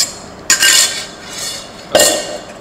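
Utensils clinking and scraping against a dish while marinade is mixed with peanuts, two sharp metallic strikes each followed by a brief rattling scrape, close and loud.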